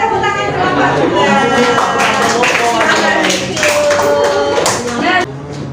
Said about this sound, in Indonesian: tepuk tangan selamat juga